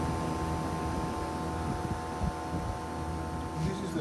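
A steady, low mechanical drone from a faulty LG air conditioner's outdoor condensing unit, with a constant hum and broadband whir throughout, close and unchanging.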